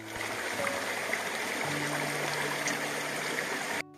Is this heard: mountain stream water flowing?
yes